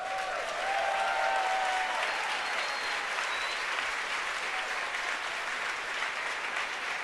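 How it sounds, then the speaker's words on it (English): Sustained applause and some cheering from a room of people in SpaceX mission control during a Falcon Heavy launch, steady and moderately distant for several seconds. "You can hear the applause behind me as we've gotten past maximum dynamic pressure."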